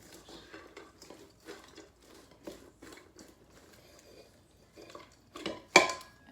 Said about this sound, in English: But then I'll take my slaw and just put this dressing on.